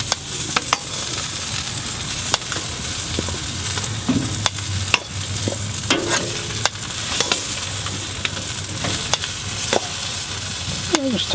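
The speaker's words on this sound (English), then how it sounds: "We're gonna take the wings, throw them back on here over these really hot coals" Chicken wings sizzle over very hot coals on the open grate of a Kamado grill, a steady close crackle with sharp pops and clicks throughout, no talking.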